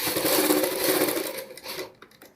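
Sewing machine stitching a fabric sleeve, a fast steady whirring run up close that slows and stops near the end, followed by a couple of faint clicks.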